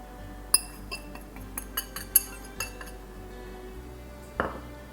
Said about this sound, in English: we're going to go ahead and just mix all of our dry ingredients